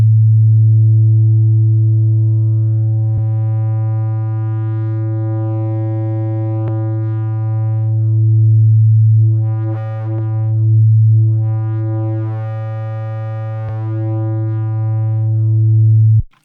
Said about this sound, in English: there's a really nice wide range of tones that are created by this distortion